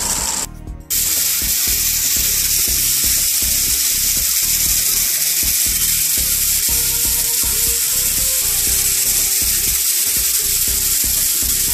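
Water gushes steadily from a tap with a hissing spray, loud and continuous after a brief sharp burst at the start.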